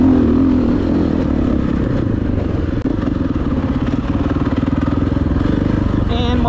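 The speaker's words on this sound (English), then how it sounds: "Another guy riding a bike." Dirt bike engine passing on an off-road trail at an OHV riding area, a loud continuous rumble with clattering and thumping from rough ground, steady throughout the clip.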